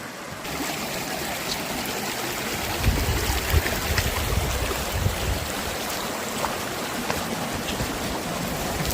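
A river runs past a forested riverside campsite below a mountain, its steady broadband rush of flowing water holding constant and close throughout, with slightly heavier churning partway through.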